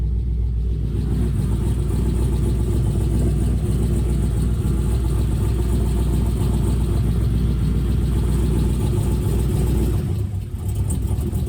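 A 6.0L LQ4 V8 swapped into a 2001 Pontiac Firebird Trans Am runs at a loud, steady idle with a deep rumbling drone close by, dipping briefly near the end, with no one talking.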